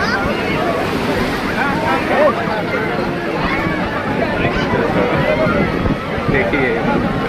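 Sea waves wash onto Juhu Beach in Mumbai as a continuous broadband rush of surf, with wind buffeting the microphone and crowd babble and people talking mixed in at a fairly loud, even level.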